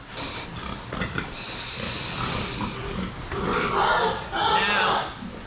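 Short snorting grunts from a fat hog on an Iowa farm, close by, mixed with hissy breaths and someone speaking over them.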